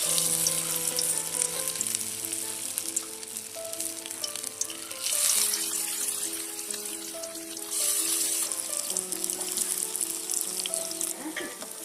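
Pakoras of spiced batter sizzle and crackle steadily in hot oil, a continuous close frying hiss with occasional stirring and no talk.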